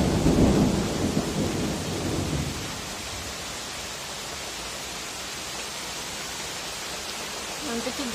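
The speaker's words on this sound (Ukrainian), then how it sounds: "Гром гремит, дождь." A heavy summer storm in Kyiv: a deep roll of thunder rumbles loudly for the first couple of seconds, then gives way to a steady wash of pouring rain hissing on surfaces, with faint voices nearby.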